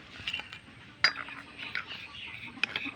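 Small toy pots and utensils clink and scrape while play meat and rice are stirred, with a sharper metallic clack near the middle and another toward the end, light and close.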